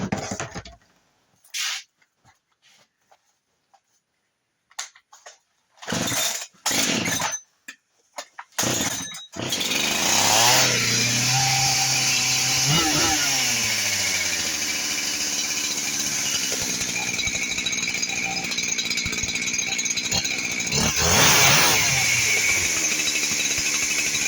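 A Husqvarna 372XP XTorq chainsaw, just repaired at the operator presence bar, gets several sharp starter-cord pulls with pauses, then fires and runs loud and close, rising in two throttle revs over a steady idle.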